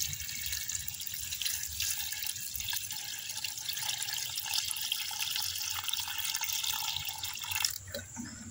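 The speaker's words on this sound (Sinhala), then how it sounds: "මේකට වතුර එකතු කරගන්න." Water is poured steadily into a container of homemade organic liquid fertilizer mix, a continuous close splashing gush lasting several seconds before stopping abruptly, with no voices.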